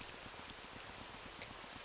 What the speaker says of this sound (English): Look at how the rain, like, makes little ripples on the water.